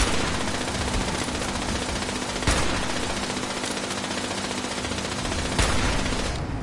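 Rapid automatic gunfire in Fallout 76, a dense continuous rattle of shots with a few louder distinct cracks standing out, sustained for several seconds with no talking.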